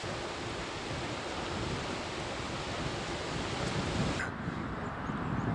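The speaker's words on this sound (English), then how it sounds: "This headwind I've had for the last couple of hours really taken a toll on me." Strong headwind buffets a touring cyclist's microphone on a ride through Provence, a steady loud roar of broadband rumble with no letup, lightening only slightly near the end.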